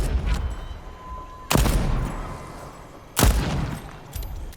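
Loud gunfire in the Deathloop video game, with two heavy booming blasts a couple of seconds apart over a busy background of lighter shots and rumble, no talking.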